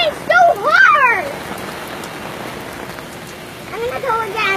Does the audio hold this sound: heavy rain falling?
yes